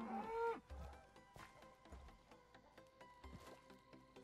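A cow moos in a Minecraft-style multiplayer survival game, one clear low call near the start followed by quieter game sounds and soft repeated thuds.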